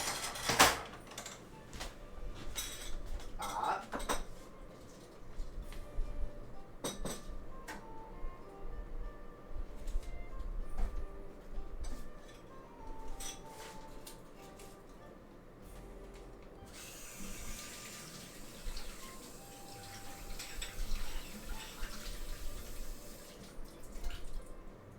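A cereal bowl is rinsed under a kitchen tap: quiet clinks, drips and small handling taps come first, then a steady rush of running water fills the last several seconds.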